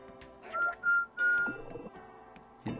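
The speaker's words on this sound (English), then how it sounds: "I have to whistle a festive tune to distract a guard robot" Whistling of a festive tune in the stealth video game No Witnesses, where a human whistles to lure a guard robot. Three short, clear tonal whistled notes rise over quiet game ambience.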